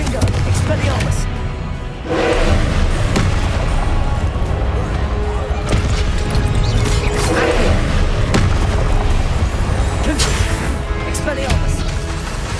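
Spell blasts in the Hogwarts Legacy video game, Confringo and Expelliarmus, land as repeated loud booms and thuds over a dense, continuous game soundtrack, with a voice talking throughout.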